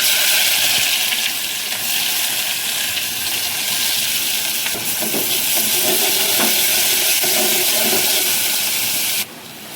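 Garlic and finely chopped onion fry in two spoonfuls of hot oil while being stirred for a crab curry. A loud, continuous sizzle runs close up with no talking, then drops off sharply near the end.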